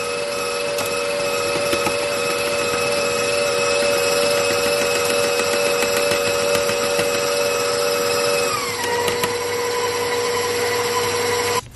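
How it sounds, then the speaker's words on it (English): KitchenAid stand mixer creaming butter with sugar and lemon zest, a steady close motor whine with beater rubbing that runs continuously, then shifts down in pitch near the end. "we're going to step over to the KitchenAid, and we are going to cream this butter."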